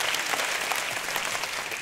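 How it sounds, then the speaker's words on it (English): Dense, steady applause from a concert audience at an annual harp festival holiday show, continuous and evenly loud throughout with no pauses. "a round of applause."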